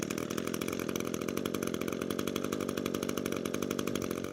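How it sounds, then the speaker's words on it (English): A gas string trimmer engine runs steadily at a buzzing idle. The small two-stroke drone holds an even pitch throughout, close and alone with no talk. "then we'll pull the recoil 2 to 3 more times and it should fire"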